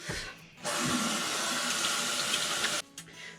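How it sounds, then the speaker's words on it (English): A bathroom tap runs while someone rinses their hands at the sink. A steady, hissing stream of water lasts about two seconds, close and alone, with brief splashy handling sounds before and after. "I'm gonna wash my hands out."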